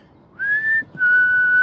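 Two human whistles, a short rising note followed by a longer steady one, clear and close against a quiet background, imitating a dog owner's call.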